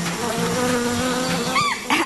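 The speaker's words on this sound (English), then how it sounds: "it's a good idea to check for bees first" Close, continuous buzzing of bees droning steadily, with a brief higher whine near the end.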